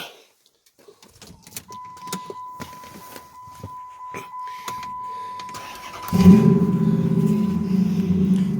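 1928 Dodge engine being started after clicks and fumbling, then catching and settling into a steady, fairly loud idle with a low rumbling rhythm, a voice briefly audible.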